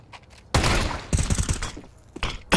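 Gunfire from a Counter-Strike match at an ESL Pro League event: a loud burst of rapid shots begins about half a second in, then a run of sharp shot transients, and a final short volley near the end. No talk is heard.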